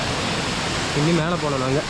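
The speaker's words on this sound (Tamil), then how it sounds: "அங்கே ஒரு வாட்டர் ஃபால்." A small waterfall runs off rock on a hidden hillside spot in Palakkad, a steady broadband rush of falling water throughout, with someone speaking over it in the second half.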